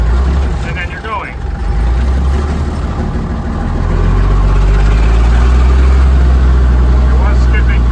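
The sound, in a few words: old Constructor cement truck engine running, skipping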